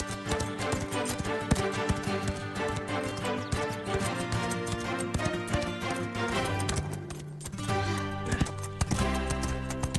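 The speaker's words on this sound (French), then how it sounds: "Je ne pouvais pas monter un autre cheval que Scarlett." Horse hooves clip-clop at a steady pace as a horse is ridden on a western-riding ranch, with continuous loud music running over the hoofbeats for about ten seconds.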